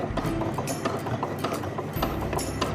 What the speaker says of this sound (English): put the presser foot down and put the needle down, and you're going to sew to the other side